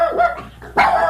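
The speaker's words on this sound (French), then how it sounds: "Qui est avec son chien, là." Close, loud dog barks sound during a French radio call-in show, with two sharp, rough bursts separated by a brief gap and no talk over them.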